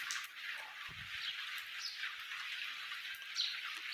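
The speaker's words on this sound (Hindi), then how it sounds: "हल्की हल्की बारिश जब होती है ना" Light rain falls in a village, heard as a soft, steady hiss of fine drops with a few faint patters close by, quiet and with no one speaking.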